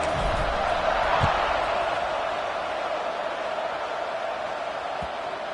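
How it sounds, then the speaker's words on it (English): A football stadium crowd at a Hawaii versus San Diego State game keeps up a dense, even roar of distant voices, with a couple of faint thumps breaking through the steady wash. "this crowd is buzzing after that last score"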